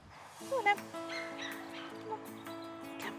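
A 3.5-month-old German Shepherd cross Akita puppy at a rescue centre gives a faint, drawn-out whine with a couple of brief yelps near the start, close and quiet.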